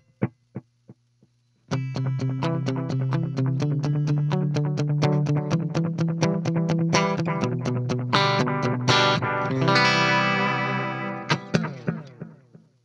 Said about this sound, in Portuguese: Ele é um tape delay bem fechadinho.